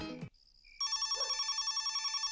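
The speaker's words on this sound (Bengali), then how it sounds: "রিং হচ্ছে কিন্তু রিসিভ করছে না" A telephone ringing unanswered in a Bengali horror drama, with a steady electronic ring pulsing in a regular rhythm after a brief opening sound, loud and close with no talk.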